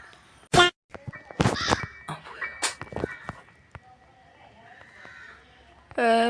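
A cartoonish crow caws in the Granny horror video game, a few short harsh calls scattered among game sound effects and clicks, with a sharp squawk at the end.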